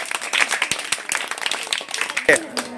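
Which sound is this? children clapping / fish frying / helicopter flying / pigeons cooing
children clapping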